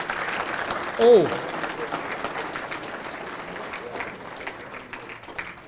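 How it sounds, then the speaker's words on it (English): Crowd applause for the Winnipeg Colonels at a Manitoba softball hall of fame induction ceremony, a steady spread of clapping running the whole length, with a brief spoken exclamation rising above it near the start. "One more time, nice round of applause for the Winnipeg Colonels."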